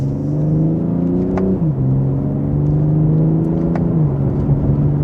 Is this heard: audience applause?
no